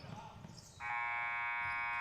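A basketball shot clock buzzer sounds at an AABA league game, a steady electronic tone cutting in after a second of faint arena noise and continuing to the end.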